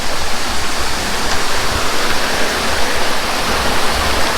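A river flowing near Sinapulan Underground River in Sultan Kudarat, rushing continuously, a dense, steady hiss and roar close by with no pauses or voices.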